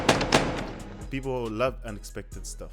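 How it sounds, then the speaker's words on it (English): Two sharp, loud gunshot sound effects in a music beat fire back to back at the start, followed by a person speaking. "That's it, and some gunshots."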